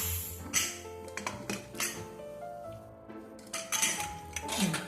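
Metal clanks and clinks of a pressure cooker lid and cookware as the cooker of boiled pulses is opened, several sharp knocks in a row, close by.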